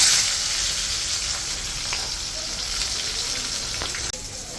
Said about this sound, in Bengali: সুন্দর করে লাল লাল করে বাদামি লাল করে পেঁয়াজ কুচিটা ভাজা করে নেব